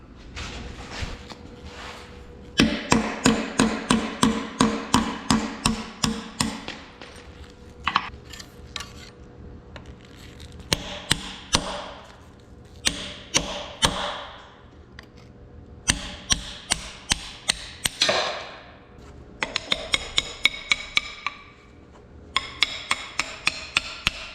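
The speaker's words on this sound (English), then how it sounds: "tap out this roll pin, I'm sorry, dowel pin here, another one here" A hammer taps dowel pins out of a 1855 tractor rockshaft, producing bursts of rapid, ringing metallic strikes close by, separated by short pauses as the blows regroup.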